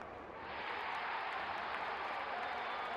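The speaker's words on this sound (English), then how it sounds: "Crowd getting involved." Cricket crowd at a Pakistan vs Zimbabwe Test match cheering and applauding, a steady broad roar that swells in after a brief quieter start and holds loud and continuous throughout.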